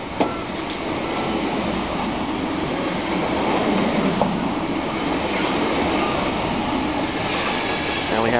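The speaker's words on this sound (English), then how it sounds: "Colchester Castle, hauling the 1119 to Liverpool Street, now departing from Manningtree." Passenger train hauled by a locomotive pulling out of Manningtree station toward Liverpool Street, a steady loud rumble of wheels and engine with faint rail clicks and squeals throughout, no talking.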